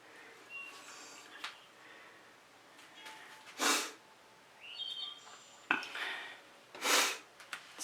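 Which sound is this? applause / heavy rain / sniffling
sniffling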